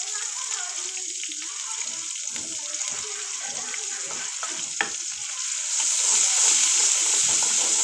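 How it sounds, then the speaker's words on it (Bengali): Chopped onion and garlic frying in oil in a pan with taro leaves, a continuous close sizzle with stirring scrapes that grows louder and hissier toward the end. "এখন আমরা পেঁয়াজ কুচি দিয়ে দিলাম, এখন রসুন কুচি দিয়ে দেব।"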